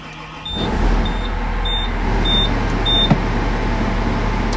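A Rottne forest harvester engine cranking and starting, then settling into a steady close, loud idle hum with a few faint beeps over it.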